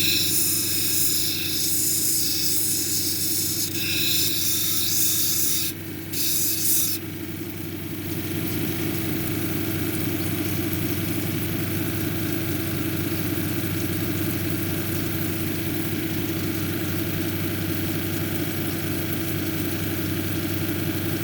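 Steady mechanical grinding of a unakite cabochon worked lightly back and forth on a 220 grit lapidary wheel, a continuous droning hum with a brighter hiss fading in the first seconds, no talk.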